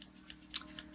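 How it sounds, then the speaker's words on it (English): Scissors handled near the microphone during an as-seen-on-TV bang trimmer demonstration, giving a few short, crisp metallic snips and clicks over about a second, with one sharper snip near the middle. "And these scissors."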